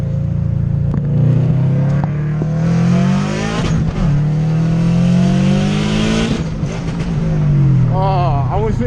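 Subaru WRX STI with about 380 wheel horsepower accelerating hard at night, its exhaust droning and climbing steadily, with a stumble where a gear shift is missed before revving resumes, loud and continuous throughout.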